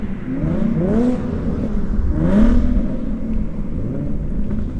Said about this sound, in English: There's two loud cars right next to each other. They're fighting for dominance.